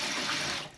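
Tap water from a UK faucet, supplied from a loch, runs in a steady, close hiss for under a second and tapers off slightly at the end.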